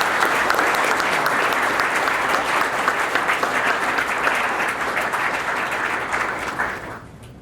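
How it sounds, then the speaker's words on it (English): An audience at a police chief's citizen awards ceremony claps in a full, sustained round of applause that tapers off and stops near the end. "Let's give him a round of applause."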